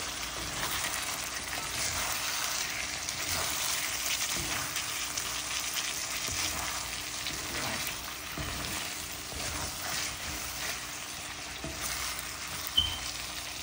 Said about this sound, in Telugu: ఇప్పుడు ఫ్రోజన్ కొత్తిమీర వేసి చికెన్ అటు ఇటు తిప్పేసి చూడండి